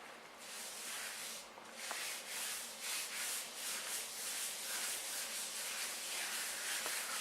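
A spice rub is worked onto a Black Angus beef brisket by hand, giving a soft, steady rhythmic rubbing and scraping at close range with no talking.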